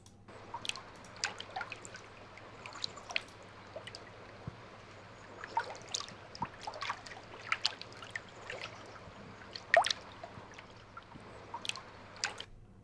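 Gentle boat water laps and drips with scattered small splashes over a quiet low hum, soft and close, with no voices, as video game ambience.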